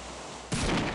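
A single sniper rifle shot in the video game Postal 2, a sudden loud broadband crack halfway through that rings out briefly after a quiet lead-in.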